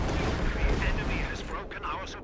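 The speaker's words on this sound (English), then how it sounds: "That's my own artillery." Artillery fire in the World War II strategy game Company of Heroes 2, a dense stretch of booming blasts and crackling gunfire that runs continuously, loud and rumbling, with game voice chatter mixed in.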